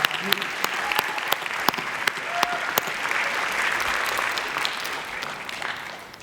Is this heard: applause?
yes